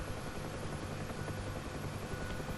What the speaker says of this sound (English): So let's take off by increasing collective.